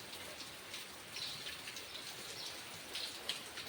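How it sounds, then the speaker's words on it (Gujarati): Heavy monsoon rain falls steadily at a village Gir cow shelter, a dense, even hiss of drops with no pauses. "અટાણ ધૂમ ધકાર વરસાદ વરહે છે"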